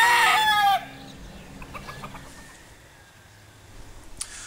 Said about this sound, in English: I talk to the chickens, they talk to me